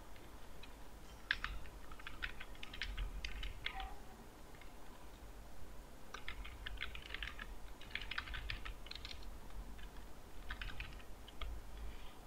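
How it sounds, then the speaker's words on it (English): A signature name typed on a computer keyboard, with two quick bursts of soft, close key clicks separated by a short pause, over quiet room hiss. "type here your signature name"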